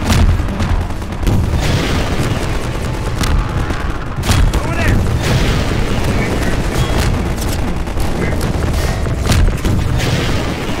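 Rocket explosions and heavy gunfire during a fight with a Strider in the Half-Life 2 video game form a loud, dense, continuous barrage of booms and blasts across the whole stretch.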